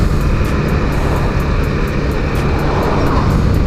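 A Honda CRF250L dual-sport motorcycle engine drones steadily and loudly while being ridden, with constant wind rush over the microphone and no talking.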